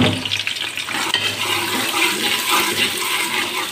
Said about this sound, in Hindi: इसको सुनहरा होने तक हम तलेंगे।